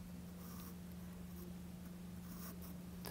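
A pencil scratching across paper while sketching an interior architecture drawing, quiet continuous strokes with a steady low hum underneath and no voices.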